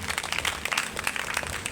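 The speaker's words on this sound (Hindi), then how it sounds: "कई बार तालियां बजाओ" An audience claps hands repeatedly during a Hindu religious story recital, dense rapid clapping from many people, steady and close, with no pause.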